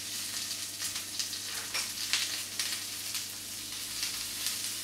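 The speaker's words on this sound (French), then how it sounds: "je mets à saisir mes champignons. Donc là, j'ai les cèpes et les oignons inclus uniquement. Je les dispose dans la poêle" Porcini mushrooms and onions searing untouched in a frying pan, giving a steady, close hiss of sizzling with small crackles and pops throughout, no voices.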